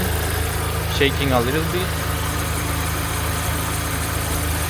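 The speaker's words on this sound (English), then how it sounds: "So the car is running." A car engine idles steadily with a slight shake, a belt or bearing fault present, nearby and constant while someone talks briefly over it.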